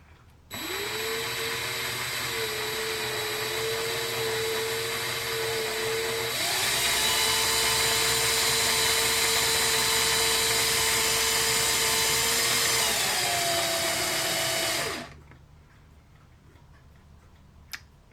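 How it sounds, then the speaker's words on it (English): A power drill with a dull bit whines steadily while drilling a model ship part, its pitch shifting a couple of times as the load changes, then winds down abruptly and stops. "I'm going to bring the part to the drill"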